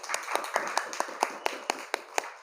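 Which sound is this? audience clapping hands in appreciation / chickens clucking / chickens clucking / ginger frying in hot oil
audience clapping hands in appreciation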